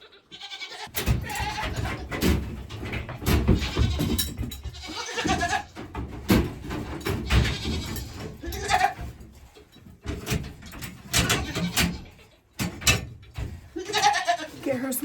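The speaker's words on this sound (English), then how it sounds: "Okay, let's go get our last goat." Goats on a farm bleat loudly and repeatedly at close range, with overlapping calls in an irregular, near-continuous stream, along with scattered handling noises.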